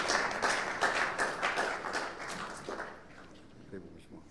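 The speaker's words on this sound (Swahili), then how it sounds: "Please, makofi. Tupatie kofi." An audience at a Kenyan political gathering claps in a steady, fairly close burst that fades toward the end, with voices mixed in.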